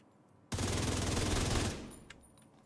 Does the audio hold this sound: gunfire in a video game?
yes